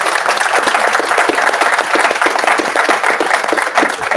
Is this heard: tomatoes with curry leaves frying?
no